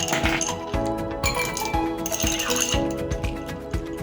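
Ice cubes clatter into a drinking glass while a chilled milk drink is prepared at home: a run of sharp clinks and rattles repeats through the clip, close and fairly loud over a steady background hum.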